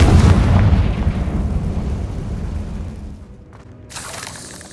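A Confringo fire spell bursts in the Hogwarts Legacy video game, a loud booming explosion that rumbles and slowly fades, followed by a faint shimmering tail.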